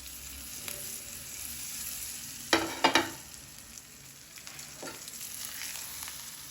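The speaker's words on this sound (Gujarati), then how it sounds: "થોડા લીમડાના પત્તા આ છે આપણો તડકો તૈયાર એડ કરી દેવાના" Curry leaves crackle and sizzle as a hot tadka tempering is added, with a couple of sharp spitting bursts over a steady low frying hiss, close and alone without talk.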